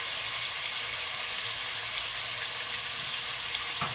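Oxtail pieces sizzling as they go into a hot pan, a loud, dense, steady frying hiss that runs throughout, with a small clatter near the end.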